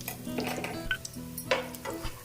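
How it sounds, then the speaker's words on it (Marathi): Ghee and ginger garlic paste sautéing in a pan for vegetable pulao, soft sizzling mixed with the scrape and clink of a spoon stirring against the pan, quiet and close. "आपण हे परतून घेऊया मी यामध्ये देखील एक चमचा तूप घालून घेते"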